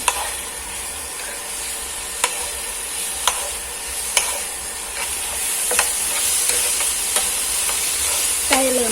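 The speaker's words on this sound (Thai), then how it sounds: "แล้วก็เอาอัน พริกกับตะไคร้ที่ยายเอ๋ตำใบนะจ้า เอามา ขัวใส่กันก่อนจ้าพี่น้อง ขัวให้เครื่องมันหอมจ้ะพี่น้อง" Pounded chili and lemongrass stir-fried in a pan for a home-style chicken om curry, a steady close sizzle with scattered clicks of the spatula scraping the pan, no voices.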